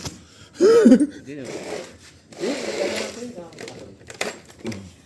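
A power drill whirs in short buzzing bursts as it bores through styrofoam, with someone talking over it.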